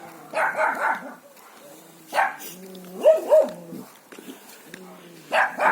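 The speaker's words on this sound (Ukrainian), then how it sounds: "Ці собаки кричать." Several dogs bark in short bursts, some high and yappy, with whimpering in between, fairly close by.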